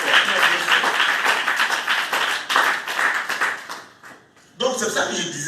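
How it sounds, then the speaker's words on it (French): A church conference congregation applauding and cheering loudly, dense clapping and voices filling the room, dipping briefly before a fresh burst of applause. "Acclame bien fort."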